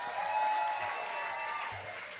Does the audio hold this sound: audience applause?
yes